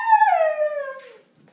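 A dog gives one drawn-out howl that slides downward into a whine, loud and close, fading out after about a second with no voices.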